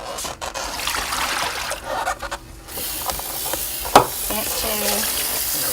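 Running water rinses a wash basin in a clinical care setting, a steady trickling flow with a brief splash near the middle, close and moderately loud.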